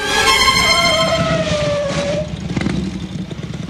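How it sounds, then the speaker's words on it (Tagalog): A motorcycle runs loud and close, its engine pitch slowly falling over about two seconds as it slows, then settling into a rough, uneven idle. "Kaya tinigil ko tong motor ko malapit sa inyo."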